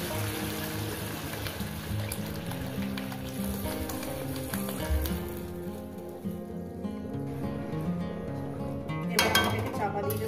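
Masoor dal frying with drumstick stems hisses and sizzles steadily as water goes into the hot pan, with a brief louder burst of spitting near the end, under a voice.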